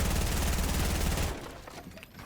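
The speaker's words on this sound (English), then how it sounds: "SMG fire from Phalanx" SMG fire rattles in a rapid sustained burst in a battle royale video game, loud and dense, then cuts off after about a second and a half, leaving a faint tail.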